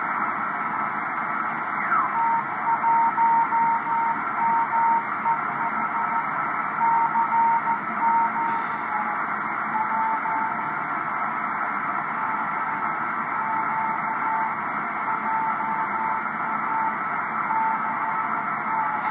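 An amateur radio station calling CQ to Japan, heard from a New England W1 operator as faint on-off Morse tones sitting over steady loud band hiss for the whole stretch.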